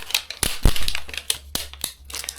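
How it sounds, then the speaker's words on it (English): Recycled plastic toy packaging being ripped open by hand, giving close, sharp crackles and tearing snaps in irregular bursts. "this one does not want to open. We're just going to have to rip it open here."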